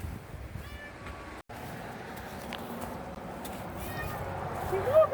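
A pet cat named Goldie, brought along on a hike on the Art Loeb Trail, meows a few times, with the clearest call near the end, over outdoor background noise and some voices.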